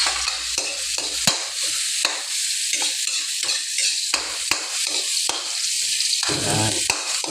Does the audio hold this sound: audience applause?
no